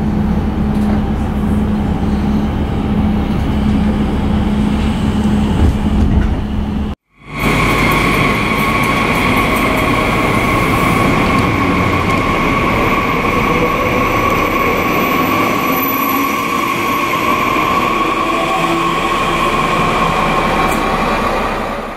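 A train on the Werntalbahn rolls into Gemünden station, with steady loud rail rumble and wheel noise throughout, a brief dropout near seven seconds, then continued running noise with faint high squeal as it slows.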